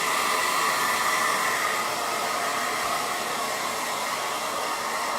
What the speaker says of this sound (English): I'm going to give this a quick little dry, y'all.